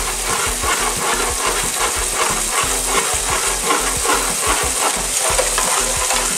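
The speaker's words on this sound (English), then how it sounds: "you want to keep your pan constantly moving" Butter sauce for salmon, a white wine beurre blanc, sizzling and swishing in a constantly moving pan, a loud continuous close-up hiss with rhythmic scraping slides, no voices.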